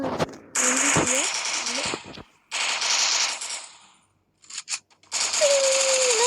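Rapid automatic gunfire bursts from the mobile shooter game Free Fire, loud dense rattling volleys separated by short gaps, with brief game tones and a player talking over the action.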